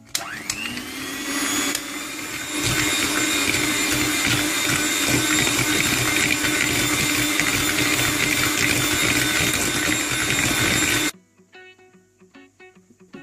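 An electric mixer whirs steadily and loudly through cake rusk batter with flour and egg, running without a break for about eleven seconds before shutting off, leaving only faint clinks afterward.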